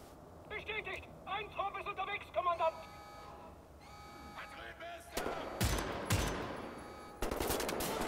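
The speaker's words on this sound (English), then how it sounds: "And I missed both shots." Gunfire in the Wolfenstein video game: quick rattling bursts early on, then louder heavy shots and blasts near the end, with someone talking throughout.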